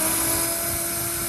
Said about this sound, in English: Always nice to have a little works drill there.